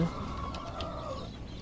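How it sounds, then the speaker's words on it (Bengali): Chickens in a small backyard coop holding fifteen laying hens, clucking continuously and close by in a short burst with no talk over it. "এখানে 15 পিস মুরগি আছে, এর মধ্যে সবগুলোই ডিম দিতেছে"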